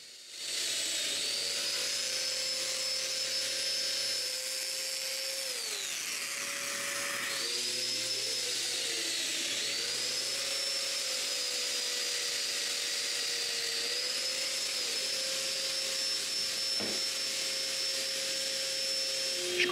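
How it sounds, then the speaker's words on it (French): A domino joiner cuts mortises into wood furniture parts for a convertible chest of drawers, giving a steady, loud whirring motor whine with a high hiss that runs throughout, pitch dipping briefly as the cutter plunges, alone without talk. "Puis, je perce les mortaises."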